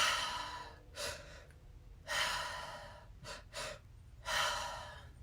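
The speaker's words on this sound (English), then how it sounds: "So really breathe it in." Deep breaths are drawn in during a guided breathing and healing session in a cave clean room: four long, close inhales with quiet pauses between them, the last few coming in quicker succession.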